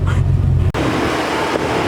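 A car engine drones loudly and close, then abruptly gives way to a broad rushing roar of road and wind noise at speed. No voices.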